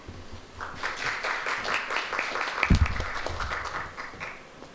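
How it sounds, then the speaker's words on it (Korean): A research presentation audience welcomes a speaker with applause, a moderate spell of clapping in a hall that swells midway and then tapers off. "큰 박수로 맞이해 주시기 바랍니다"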